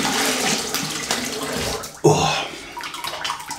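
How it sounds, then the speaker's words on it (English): Running water for a cold rinse during a wet shave with an Edwin Jagger 3ONE6 razor, a steady rush that swells into a louder splashing gush partway through, then settles back into a continuous flow. "I'm gonna have a cold water rinse here"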